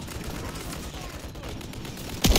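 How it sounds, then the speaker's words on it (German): Gun turret firing in Call of Duty MW3, a dense continuous rattle of rapid gunfire under the game's battle noise, ending in a sharp louder burst. "Das Geschütz nagelt uns fest"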